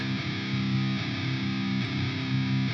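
A dark, bassy, muffled electric guitar tone from a free high-distortion VST amp plugin, with thick sustained chords changing a few times and playing continuously and close.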